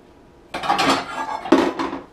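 Metal pans clank and scrape as they are handled, two bursts of clattering close by, with no voices.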